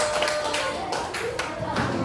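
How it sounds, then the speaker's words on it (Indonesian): A fifth-grade classroom breaks into a brief, dense wash of clapping, steady and moderately loud for a couple of seconds, with voices mixed in. "Oke, tepuk tangan."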